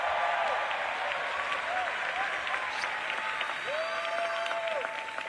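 Rally crowd at an election-eve campaign event for Zohran Mamdani in New York City applauding steadily and loudly, a dense wash of clapping with cheers and a few whistles over it, sustained throughout.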